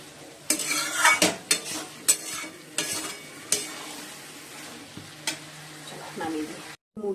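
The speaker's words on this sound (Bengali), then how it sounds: "আর এই কড়াইটা মাজবো" A karai (wok) being scrubbed and washed, with repeated scraping and clanking strokes of metal, uneven bursts with pauses between, close and fairly loud.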